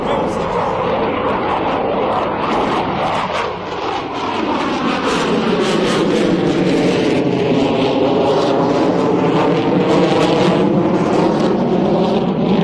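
Rhino jet fighter with about 44,000 pounds of thrust performing a dirty roll at a military air show, a loud continuous roaring jet engine with shifting whine, an announcer talking over it.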